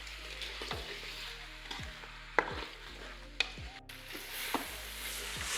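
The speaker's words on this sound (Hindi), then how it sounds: "4-5 मिनट इनको भून लें आप, लौकी को भी इसके साथ" Bottle gourd and meat frying together in a pressure cooker for a gourd-and-mutton curry, a steady close sizzle broken every second or so by sharp clinks of a spoon stirring against the pot, with no talk.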